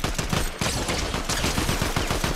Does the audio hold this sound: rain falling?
no